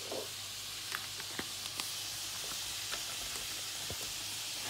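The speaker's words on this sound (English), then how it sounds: "I'm going to let that fry for about 2 to 3 minutes" Bacon fries in a pan with a steady, even sizzling hiss and scattered small pops, close and continuous with no talking.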